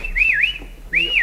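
A man whistles a loud, close two-note wolf-whistle-style phrase, a rising and falling tone, then a pause and a second rising call.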